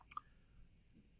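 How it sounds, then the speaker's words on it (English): A computer mouse gives a quick double click, two crisp close ticks in a quiet room, alone without talk. "I was trying to just click"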